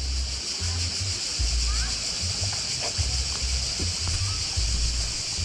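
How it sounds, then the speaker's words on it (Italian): The Sentino river rushes and splashes steadily nearby at the San Vittore alle Chiuse abbey in Genga, Italy, a constant broadband roar with occasional voices heard briefly over it. "ci andiamo a vedere il torrente, il fiume Sentino"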